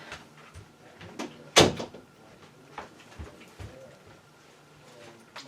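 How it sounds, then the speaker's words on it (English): A room door is pushed shut with one sharp, loud thud, surrounded by a few fainter knocks and bumps in an otherwise quiet indoor space. "Let me see if I can close my door"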